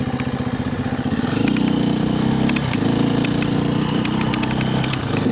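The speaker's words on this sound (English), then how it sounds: "So even if I lug it like right now in third, crack the throttle, no clutch, and it still has plenty." KTM 350 EXC-F dirt bike lugs in third gear as the throttle cracks open without the clutch, a loud, close, low thumping engine note swelling and holding steady, with no talking.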